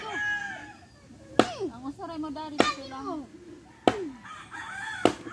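A rooster crows repeatedly, each call a loud rising then falling cry, interleaved with sharp chopping knocks at regular intervals, while a person talks nearby.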